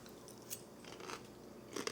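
Quiet, close crunching bites into Sicilian sfincione pizza topped with crunchy garlicky breadcrumbs, a couple of brief crisp crackles over about two seconds.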